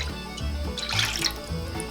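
Pineapple juice poured into a pot of water for a pie filling, a brief, close gurgling pour with splashing that swells in the middle, then settles.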